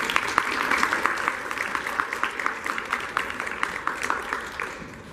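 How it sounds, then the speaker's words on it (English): Steady audience applause for school staff at an 8th grade awards ceremony, many hands clapping continuously with sharp individual claps standing out at moderate distance. "please give them a round of applause right now"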